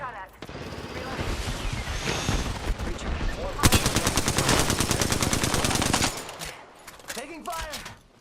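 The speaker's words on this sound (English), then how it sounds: "Contact. Getting shot at." Rapid automatic gunfire in the video game Apex Legends rattles in dense bursts, with a sustained machine-gun stream in the middle before dropping off to quieter game sounds near the end, under occasional speech.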